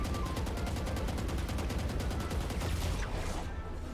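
Rapid gunfire in the video game Valorant, a fast, even rattle of automatic shots that runs loud and close for most of the stretch, then tapers off.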